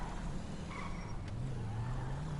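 Video game car being driven gives a faint, steady engine hum whose pitch slowly climbs, with a brief soft click partway through and no talking.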